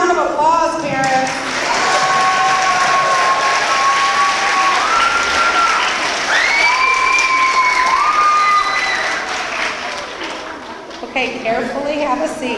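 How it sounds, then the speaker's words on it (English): Parents applauding at a school academic awards ceremony, loud sustained clapping from a crowd with cheers and whistles rising over it before it tapers off. "give them a huge round of applause, parents?"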